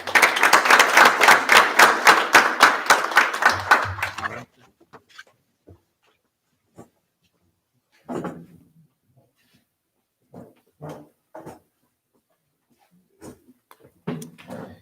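Graduates of a jail basic training class receive a round of applause, a close burst of many hands clapping for about four seconds before it stops abruptly, followed by near silence with scattered small clicks and brief speech.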